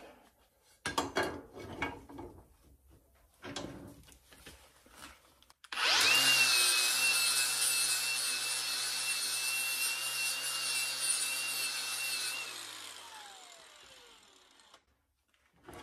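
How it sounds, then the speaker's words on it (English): A power tool cleans the metal surface of 1972 VW Super Beetle parts before welding, winding up sharply after some scattered handling clatter, then whining steadily and loud for several seconds before spinning down and trailing off. "Cleaning the surface to weld those parts on."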